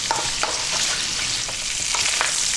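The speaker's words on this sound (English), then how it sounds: "we're going to fry this around for about 4 minutes in this pan" Pork ribs stir-frying in a wok, a steady close sizzle with repeated scraping and tossing strokes from a utensil, loud and continuous, no talking.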